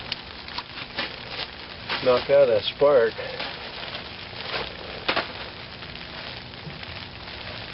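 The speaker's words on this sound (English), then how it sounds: "You can hear it raining" Rain falls steadily on a campfire shelter, a soft constant patter under someone talking close by.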